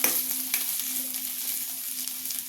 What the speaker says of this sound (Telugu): ఇప్పుడు ఇందులో కొంచెం క్యాప్సికము, క్యారెట్, ఇవి కూడా కొంచెం ఫ్రై చేసుకోవాలి.